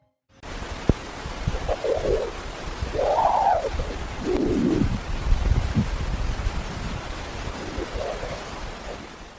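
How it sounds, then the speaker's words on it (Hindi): A recorded sound of the Sun comes through as a continuous roaring, wind-like rush, like strong gusts hitting a microphone. Low, slow swells rise and fall through it, and no voices are heard. "साथ ही यह आवाज सुनकर आपको ऐसा लगेगा कि माइक से तेज हवाएं टकरा रही हों"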